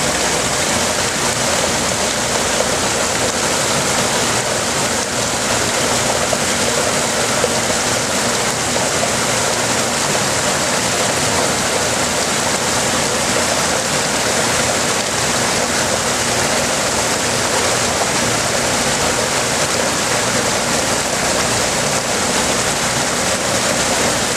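Treated water drains steadily from a large south basin in a high-volume batch treatment, a loud, constant rushing wash with no pauses or voices over it.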